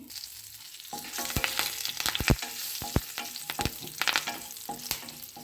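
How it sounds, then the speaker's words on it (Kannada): Curry leaves crackle and spit as they drop into hot tempering oil for a wedding-style tondekayi palya, giving sharp irregular pops over a soft sizzle, close and fairly quiet, with no talk. "ನೋಡಿ ಒಗ್ಗರಣೆ ಆಗ್ತಾ ಇದೆ ಇದಕ್ಕೆ ನಾನು ಕರಿಬೇವಿನ ಸೊಪ್ಪನ್ನ ಹಾಕ್ತಾ ಇದ್ದೀನಿ"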